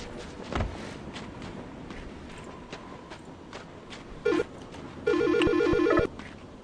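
A phone rings in the horror game Silent Hill: Shattered Memories, with two bursts of a warbling electronic ringtone after a few soft footsteps and ambient noise. No one speaks.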